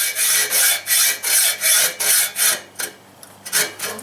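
Rhythmic back-and-forth rasping of a hand saw blade cutting through a Honda Rebel 250 motorcycle exhaust pipe, about eight even strokes, then slower, choppier strokes as the cut nears its end, loud and close.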